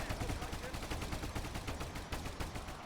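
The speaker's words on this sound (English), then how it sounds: "Okay, one of them's shooting." Rapid gunfire from soldiers in the battle game Ultimate Epic Battle Simulator, US Airborne and SS troops facing a necromancer's army, crackles as dense overlapping shots throughout, with a voice talking over parts of it.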